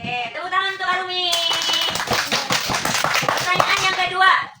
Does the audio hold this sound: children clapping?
yes